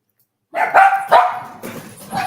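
Several excited dogs bark in a quick burst of sharp, close yips and barks that follow a moment of silence and then keep going at loud volume.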